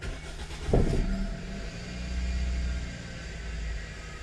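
A car engine is started after an OBD2 scanner clears a check-engine fault: a brief loud crank burst near the start, then a steady low idle rumble continuing to the end, with no talking.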